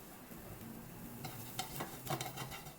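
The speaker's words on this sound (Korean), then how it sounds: "익혀주면서 지지직 소리가 줄어들어요." Soft sizzling of bellflower root frying in a pan for japchae, with a few light scraping stirs and clinks toward the end.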